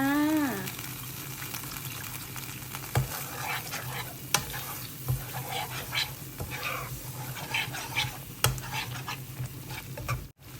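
Thai red curry with pork and pea eggplant simmering as coconut milk is stirred in, giving a steady bubbling sizzle and soft wet scraping strokes at irregular intervals, close and fairly quiet, with no talking.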